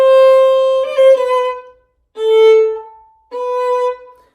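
A grace-note exercise from a Brahms waltz: three sustained, clear melodic tones, the first broken by quick ornamental grace notes, each tone separated by a short silence, played alone.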